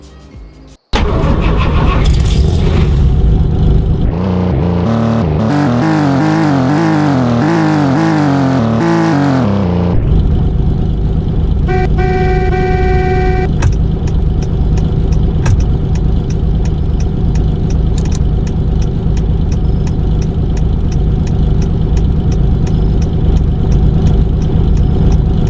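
A 1955 Mercedes-Benz 300SL Gullwing in a Roblox game fires up, its engine revving through rising and falling pitches for several seconds, then settling into a loud, steady idle that runs on alone.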